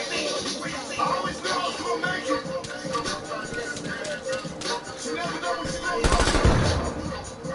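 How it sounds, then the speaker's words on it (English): Shotgun fire in Call of Duty Black Ops Cold War, with scattered gunshots through a busy firefight and one louder, heavier blast near the end, under a steady background of game noise. "Oh, that's a shotgun."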